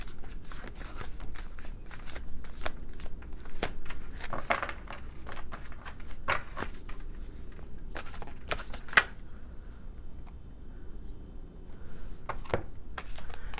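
Tarot cards shuffled by hand, a series of crisp close riffles and taps spread irregularly across the stretch, with a quiet pause near the end.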